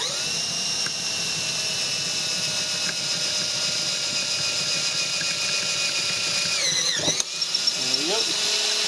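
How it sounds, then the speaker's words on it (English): A power drill bores a hole through a centre spreader bar for a wood saw build, a steady high whine running continuously before winding down near the end, with a voice briefly heard. "so that's the hole drilled"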